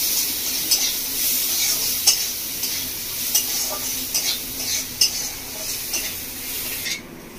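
Onion frying with turmeric and Kashmiri chilli powder, sizzling steadily in a pan while a utensil stirs and scrapes through it in repeated clinks, close and alone with no talk.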